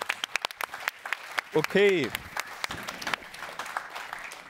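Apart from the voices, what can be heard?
applause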